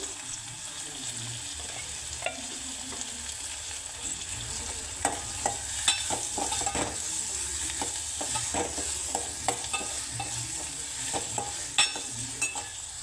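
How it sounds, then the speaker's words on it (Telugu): Onions frying in a pan with a constant bright sizzle, stirred now and then with sharp, scattered scraping knocks, close and steady, with no one speaking. "ఉల్లిగడ్డలు కొంచెం తొందరగా వేగుతాయి"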